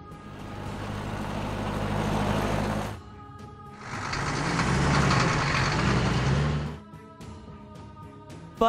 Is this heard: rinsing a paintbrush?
no